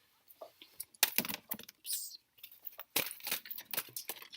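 Tarot cards shuffled and drawn from a deck, giving a string of close, crisp paper flicks, slides and rustles in short bursts, with no talking.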